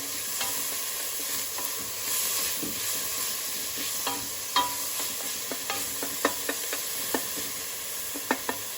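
Cilantro sizzles in a hot pot for tortilla soup under a steady hiss, while a spoon stirs it with scattered scraping clicks and taps close by.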